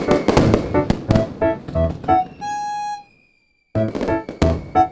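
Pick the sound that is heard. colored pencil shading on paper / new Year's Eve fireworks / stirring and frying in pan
new Year's Eve fireworks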